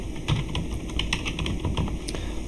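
Typing on a computer keyboard, a steady run of quick, close plastic key clicks at an uneven rhythm, clear and alone without speech.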